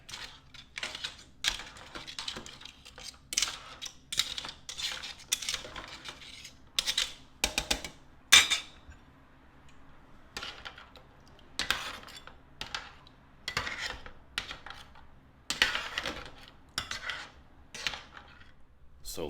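A utensil scrapes and clinks against a pan while linguine is tossed with red clam sauce, a close, irregular run of clattering strokes with brief pauses and a faint voice underneath.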